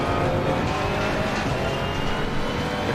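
Ferrari race car engine in the racing game ACC, a steady loud droning roar sustained throughout with constant high revs and no pauses, alone without talk.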